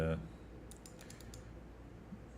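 Several quick, light key taps on a computer keyboard as a number is typed, faint and close over a quiet background hum.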